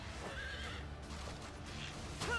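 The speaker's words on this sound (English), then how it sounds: "the horse is like jumping like a jumping bee" A horse neighs during a battle in Fire Emblem: Three Houses, a short whinnying call over steady background game noise with faint hoof clatter. No voices.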